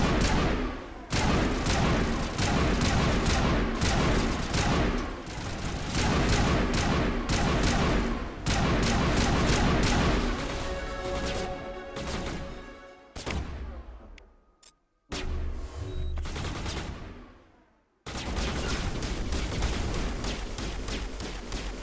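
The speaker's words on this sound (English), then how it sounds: "I do like shooting at the wall as well when it detects an enemy behind it" Gunfire in Mass Effect as shots are fired into a wall with an enemy behind it: sustained loud, rapid bursts with rattling impacts, dropping out briefly twice before the heavy shooting resumes.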